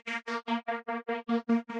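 Serum synthesizer pad shaped by a ShaperBox volume preset, chopped into nine even rhythmic pulses of a rich harmonic chord, each clipped off cleanly, loud and alone.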